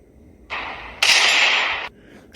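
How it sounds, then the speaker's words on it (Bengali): A gunshot effect from a Bengali supernatural horror audio drama, heard as a loud, hard-edged blast of noise that swells sharply and holds with a brief echoing tail before cutting off, with no voices. "আমি বন্দুকের ঘোড়া টিপলুম"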